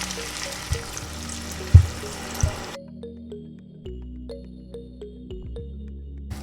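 Boiling water in which beef was cooked being poured into a Ugandan-style beef stew: a steady liquid splash and gurgle that stops partway, leaving quieter bubbling and clinks.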